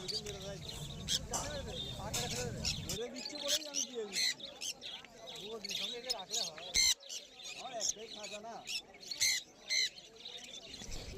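Lovebirds and conures at a pet bird market in Uluberia, a dense chorus of chirps, tweets and squawks, some close and sharp, others farther off, running throughout with people talking over them.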